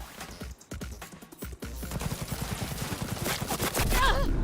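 Rapid pistol gunfire from the Skippy smart pistol in the video game Cyberpunk 2077, a dense run of close, loud shots in quick rhythm that builds toward the end.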